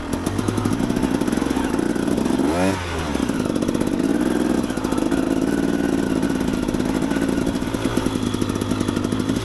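A KTM EXC 250 dirt bike ridden off-road, its two-stroke engine droning loud and close without a break, with one brief rev swell and dip near the start.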